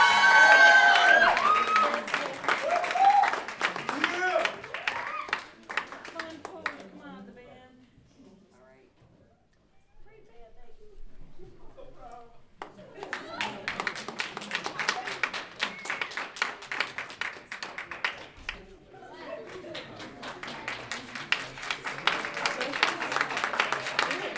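An audience applauds and cheers for the performing group at a lyrics and song event, first under a speaking voice, then dropping nearly silent before bursts of crowd clapping return mixed with talk.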